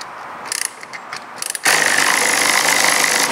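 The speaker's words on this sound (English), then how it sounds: "we're only going to partly jack the rear of the scooter up" A scissor jack raises the rear of a Vespa GTS scooter: scattered ratcheting clicks at first, then a sudden steady, loud mechanical whirring that continues without pause.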